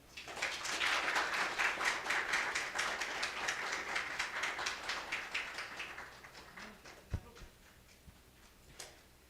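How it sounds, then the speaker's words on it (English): A conference audience at a Tanzanian neurosurgical society meeting claps for the arriving Minister for Health, a loud burst of applause that thins and fades over several seconds, ending with a few scattered claps and a thump. "A round of applause, please."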